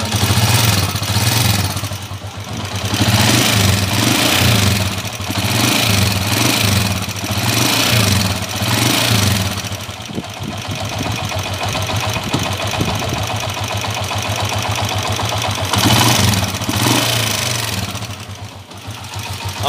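A TMX155 motorcycle engine in Sual, Pangasinan runs close by, its rough, noisy idle rising and falling with repeated throttle revs and a steady thumping rhythm.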